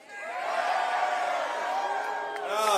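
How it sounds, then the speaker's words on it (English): Political rally crowd in South Carolina cheering and whooping, a swelling, sustained roar of voices that holds steady and rises again at the end. "I know they told you to cheer anytime I said math"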